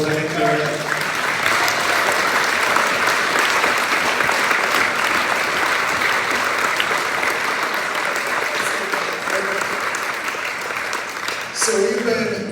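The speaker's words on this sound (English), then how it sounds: "Let's give them a round of applause while they're here." Sustained, dense applause from a school audience at a high school band pops concert, loud and steady for about twelve seconds before tapering slightly at the end.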